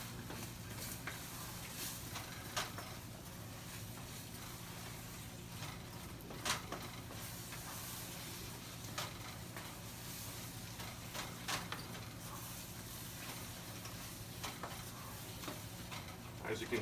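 Eggs cooking in a pan, a soft steady sizzle with occasional scrapes and stirring clicks, faint and continuous throughout.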